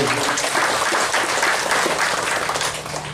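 An audience at a public address on energy forest development breaks into sustained applause, a dense, steady wash of many hands clapping that tapers slightly toward the end.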